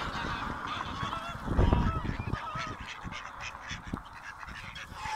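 Geese and ducks honk and quack close by at Abberton Reservoir in Essex while being hand-fed, a steady chorus of calls with a louder burst of flapping and honking near the middle.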